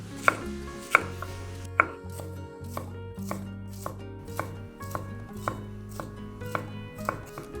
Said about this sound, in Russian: А затем вот так вот маленькими кубиками.